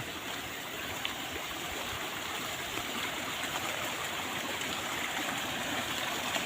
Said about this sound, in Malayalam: ഇത് ചെറിയൊരു നീരുറവായിട്ട് വന്നുകൊണ്ടേയിരിക്കുന്നു.